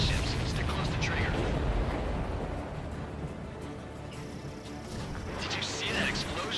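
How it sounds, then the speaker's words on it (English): A supply ship explodes in the Ace Combat 7 combat flight game: a dense, rolling broadband rumble of blasts and booms fills the whole stretch, swelling loud near the start and end, with voices faintly present in the mix. "Did you see that explosion? Looks like that's one of them down."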